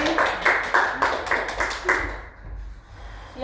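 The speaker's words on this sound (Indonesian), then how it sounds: "Berikan tepuk tangan untuk Desri." A classroom group claps for a student who answered a question, a quick run of sharp hand claps lasting about two seconds before fading into room noise.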